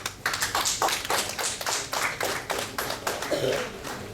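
Audience applause in a hall as guests are invited onto the stage at an Indian Rotary club event: steady, moderately loud clapping from many hands throughout, with a faint voice faintly audible.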